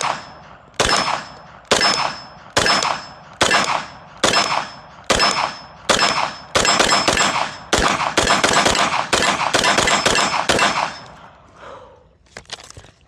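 Rapid series of gunshots from a Sig MPX K or CZ Scorpion EVO 3 Micro compact pistol-caliber carbine, about a dozen loud sharp reports at a steady pace that quickens toward the end, with ringing echoes and no talk.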